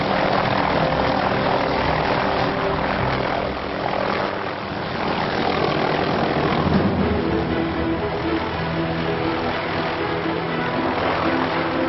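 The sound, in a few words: helicopter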